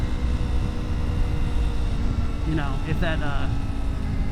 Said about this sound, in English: Smaller engine, and it's going to have that higher pitch sound.